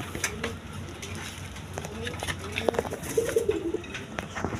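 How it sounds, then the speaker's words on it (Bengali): A non-breeding pair of pet pigeons coos softly from a short distance, a brief run of low throaty calls over faint background noise, with someone talking quietly nearby. "দর্শকবৃন্দ এখানে এক পেয়ার বাঞ্জা কবুতর আছে"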